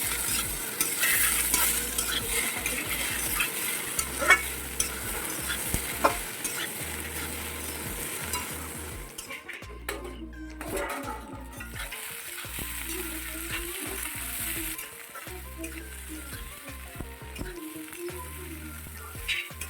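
Green jackfruit curry being stirred and fried in a pan over low heat, a steady sizzle with repeated scraping stir strokes, close and fairly loud, with no talking.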